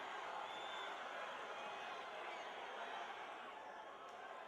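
A packed crowd at a state wrestling championship heavyweight match roars in a large arena, a continuous dense wash of voices with no breaks, heard from a distance.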